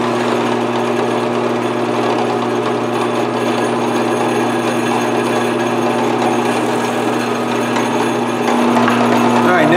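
A power drill bores through a guitar-body routing template while building a Les Paul guitar, whining continuously at close range, loud and steady with a constant motor hum, shifting slightly near the end.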